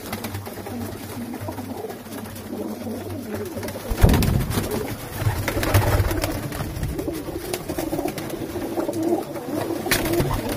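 A large flock of pigeons coos steadily and close by in a busy loft, with soft overlapping calls and wing rustle that swell louder midway through.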